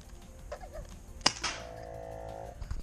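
A Hand Kannon HPA Firestrike airsoft gun fires one sharp, loud crack, followed by a short ringing tone, with quiet ambience before and after.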